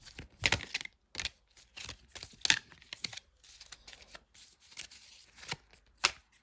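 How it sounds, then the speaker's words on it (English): Tarot cards being shuffled by hand, a run of crisp riffling and slapping bursts at irregular intervals, close and fairly loud, with no talking. "Still, I had a bunch, so I'm going to shuffle because I do not believe that I should select."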